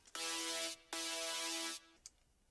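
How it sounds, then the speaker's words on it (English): Bright supersaw synth lead doubling a trap remix brass line, two sustained loud chords of about 0.7 and 0.9 seconds, then a brief faint blip, with no talk. "Add one supersaw doing the same thing as your brass."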